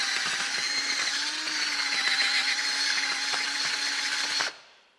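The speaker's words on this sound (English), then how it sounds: "You can see what a great job this wire brush on the drill motor does." A wire brush spun by a drill motor scours carbon from a Massey Ferguson tractor valve seat, giving a steady, close, gritty whir with a faint scraping rattle that runs unbroken for several seconds and then cuts off abruptly.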